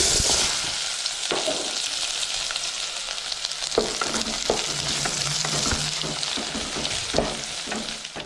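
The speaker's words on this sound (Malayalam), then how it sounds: "എണ്ണ നന്നായി ചൂടായി വന്നിട്ടുണ്ട് കേട്ടോ നമുക്കിതിലേക്ക് രണ്ട് സവാള അരിഞ്ഞിട്ടിട്ടുണ്ട്" Two chopped onions sizzle steadily in hot oil as a samosa masala begins, a dense close frying hiss with scattered crackles and occasional stirring scrapes throughout.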